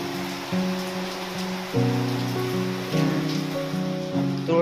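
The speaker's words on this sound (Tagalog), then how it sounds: "Malakas po ang ulan." Heavy rain pours steadily during a thunderstorm, a dense hiss of drops on surfaces with a low rumble, while tonal engine or motor hums shift underneath throughout.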